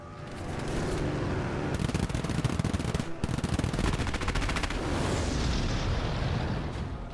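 Rapid machine gun fire in a dogfight between a Spitfire and Fiat biplanes, long dense rattling bursts with brief gaps, loud and continuous over engine roar.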